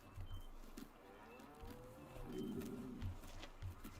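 A low, drawn-out moo from bulls in the video game Farming Simulator 2019 rises and falls over a murmuring background, with a few soft thumps, no speech.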